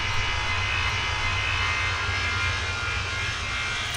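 A small G8 airplane's engine roars steadily and loudly in the air traffic control game Tower Simulator 3, a constant drone with no talk over it.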